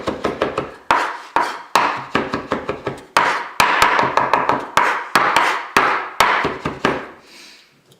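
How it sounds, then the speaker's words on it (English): A knife chops garlic on a cutting board with quick, crisp, close taps in irregular clusters, steady for several seconds before stopping, with no talking. "So yeah, really just chop it, slice it all the way down."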